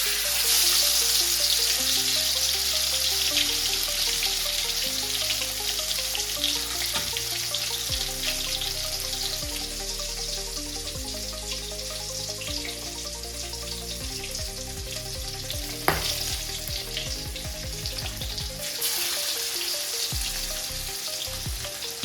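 Marinated fish frying in a pan hisses continuously under steady background music, with a single sharp clink partway through.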